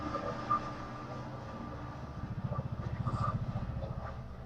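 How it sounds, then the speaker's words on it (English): A train in the visual novel Saya no Uta rumbles past with a steady rhythmic clatter of wheels that grows louder partway through, set against low background noise. "And the train. Beautiful."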